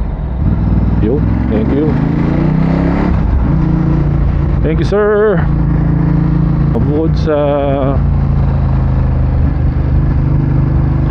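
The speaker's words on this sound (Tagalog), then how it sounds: "ganda ng tunog ng exhaust hindi siya sobrang wild na maingay" Ducati Hypermotard 939 SP motorcycle engine and exhaust droning steadily while riding, with rising revs and brief whining pitch sweeps, loud and close under a rider's spoken voice and wind.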